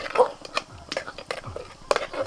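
Rasam is stirred in a pot with a spoon, giving a few close scraping and clinking strokes at an irregular pace, with faint breathy voice-like sounds in between.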